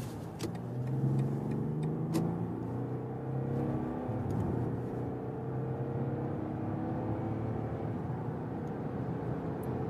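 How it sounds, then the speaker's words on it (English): A new BMW 7 Series accelerates from about 50 km/h on an unrestricted German autobahn, heard from inside as a steady, subdued engine whir that rises smoothly in pitch with faint road noise and no talk. "And we start at about 50 kilometers an hour and accelerate it out."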